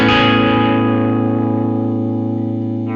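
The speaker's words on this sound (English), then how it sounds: "I'm just going to leave it on overdrive." An electric guitar chord rings out through an overdrive effect in Ableton Live, a bright strummed attack that sustains and slowly fades with a buzzy, saturated hum over three seconds, heard alone.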